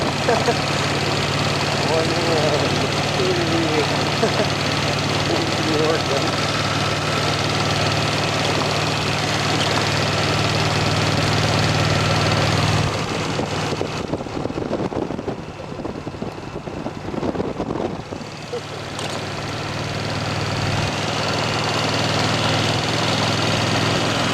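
A motorcycle engine idles steadily on a road trip through Itasca State Park in Minnesota, a constant low rumble with wind buffeting. The rumble briefly drops out midway, then returns.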